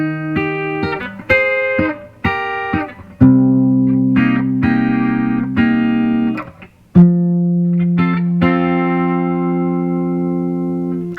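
Electric guitar plays a song's piano part as chords: low notes followed by higher ones, a series of plucked attacks that then ring out in longer sustained chords, loud and clear with no talking.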